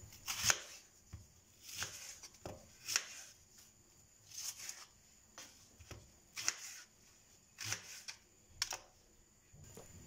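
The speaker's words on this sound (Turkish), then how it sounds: "Şimdi öncelikle soğanlarımı şöyle parçalara ayırıyorum." Onions being cut into pieces for lahmacun filling, a series of sharp knife chops on a cutting board, about a dozen close, crisp taps spaced unevenly with quiet gaps between.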